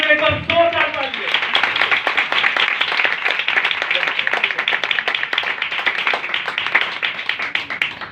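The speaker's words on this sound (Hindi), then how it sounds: "कलाम के ऊपर जोरदार तालियां।" A church congregation claps loudly during a sermon, a dense, sustained burst of applause that follows a brief spoken exclamation at the start.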